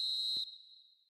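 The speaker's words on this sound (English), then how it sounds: "And there is the half-time whistle." A referee's half-time whistle in a football video game, a single clear high blast that cuts off and trails away, with little else around it.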